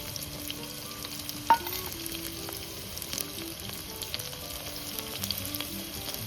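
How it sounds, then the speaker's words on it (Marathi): Onion frying in hot oil in a cooking pot gives a soft, steady sizzle heard close up, with one sharp knock early on and a few faint scrapes, no one talking. "तेल गरम झालं की त्यात कांदा घालून तो तळून घेऊया।"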